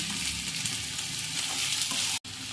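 Prawns frying in a pan with tomatoes and onions already fried soft, a dense, steady hiss of sizzling oil heard close, with a brief cut near the end.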